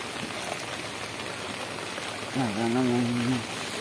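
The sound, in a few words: heavy rain falling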